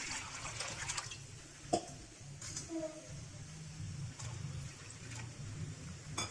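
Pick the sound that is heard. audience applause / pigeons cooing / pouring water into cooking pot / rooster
pouring water into cooking pot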